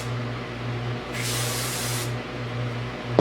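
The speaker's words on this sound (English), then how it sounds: "I'm just going to put a light layer of hairspray on top of that" A single close burst of hairspray hisses for about a second as it is misted over a top knot hairstyle, set against a low steady hum.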